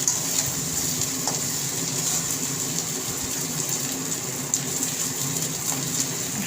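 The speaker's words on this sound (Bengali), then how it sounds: "সুন্দরভাবে পটলগুলো মশলার সাথে ভাজা হয়ে গেছে।" Pointed gourd (potol) frying with spices in a pan, a steady close sizzle with scraping stirs, no talking.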